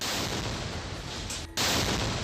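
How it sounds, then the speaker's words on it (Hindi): A loud explosion at a flag pole on the Israel–Palestine border, heard as a sustained roaring blast of broadband noise with a brief dropout before it surges back at full strength. "एक जोरदार धमाका होता है"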